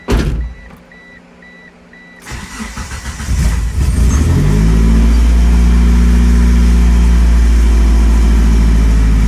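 A Suzuki GSX Spyder running on very old gasoline cranks with a whirring starter, then catches and settles into a loud, steady, rumbling idle that continues to the end.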